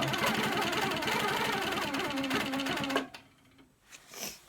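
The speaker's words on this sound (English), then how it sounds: "Stitching in the ditch is one of the toughest things to do" Handi Quilter Sweet 16 quilting machine stitching, a fast steady mechanical whir with rapid rhythmic needle clatter that stops abruptly partway, leaving quiet handling noise.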